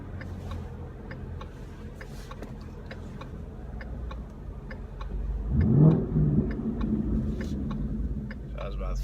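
A 2015-18 Mustang fitted with a Corsa exhaust driving with windows up, a low steady engine drone that swells into a deeper rising rev partway through, heard from inside the cabin alongside a ticking turn signal.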